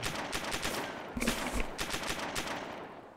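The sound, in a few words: gunshots in video game DayZ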